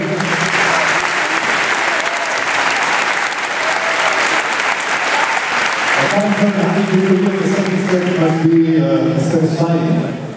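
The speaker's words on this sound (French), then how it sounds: "On va mettre l'applaudissement, s'il vous plaît." Loud, dense applause from a tennis crowd at the Challenge Bell evening session greets the match winner, sustained for several seconds before it fades and a voice begins speaking over the tail of the clapping.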